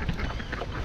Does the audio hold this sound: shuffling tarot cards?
no